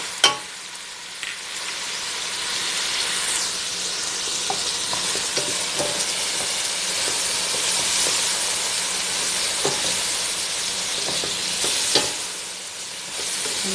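Shrimp fry with turmeric and mixed seasoning in a pan, a loud continuous sizzle and steamy hiss with occasional scraping knocks from stirring, close up.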